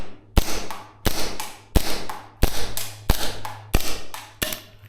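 Tokyo Marui Chisato airsoft pistol, gas-powered and running low on gas, fires seven sharp, evenly spaced shots, each a crisp crack with a short mechanical clack, close and loud with no talking.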